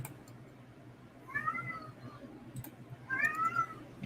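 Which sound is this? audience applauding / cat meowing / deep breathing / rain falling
cat meowing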